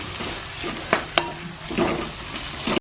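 Onion, green chili, curry leaves and tomato fry in a pan with a soft continuous sizzle, broken by a couple of sharp spatula clicks and scraping stirs nearby.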